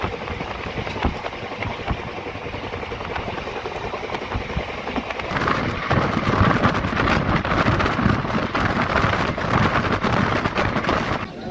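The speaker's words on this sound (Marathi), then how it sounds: "पावसामुळे रेल्वेचा हा आवाज किती मधुर वाटत आहे, तुम्हीही ऐका" Heavy monsoon rain beats down during a Tapovan Express train journey, a dense roar that grows louder about halfway through, mixed with train rumble and wind.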